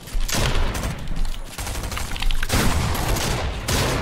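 Rapid, dense gunfire during a Fortnite late-game tournament match, loud sustained bursts and volleys of shots with brief gaps, close and overlapping.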